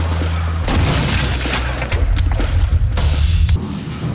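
Heavy double-barrelled super shotgun in Quake II booming loudly again and again over a dense, rumbling game soundtrack, with mechanical clanks between the blasts.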